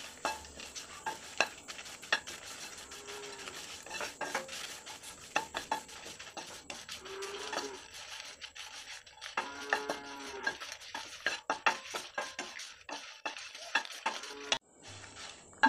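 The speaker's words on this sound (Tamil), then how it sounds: "அதையும் மிளகாய் கூடவே போட்டு நல்லா மொறுமொறுன்னு ஆகிற வரைக்கும் நீங்கள் வறுத்துக்கணும்." Curry leaves and dried red chillies dry-roasting in a pan while being made into amla (gooseberry) powder, with steady stirring, scraping and light crackling ticks that run on throughout, with no voices.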